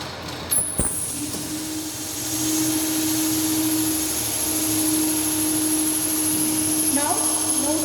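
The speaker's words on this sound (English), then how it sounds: "now switch on the 2-point starter, so the motor will start." A DC series motor on a lab test bench starts up after its 2-point starter is switched on, with a click and then a steady high whine and a lower sustained hum running on.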